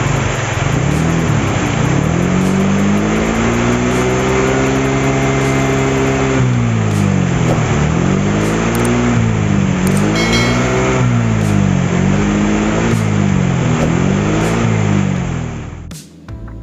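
A Yamaha Mio scooter engine, just fitted with a new regulator-rectifier, revs hard at high RPM, rising and falling in repeated swells before dropping off sharply at the end; loud and close, with no talk.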